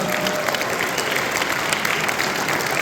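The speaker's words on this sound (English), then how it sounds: "Give them a round of applause" An audience at an evening event with the UFC lightweight champion Khabib Nurmagomedov in Chicago gives a loud, dense round of applause, crowd clapping filling the room continuously, with faint cheers mixed in.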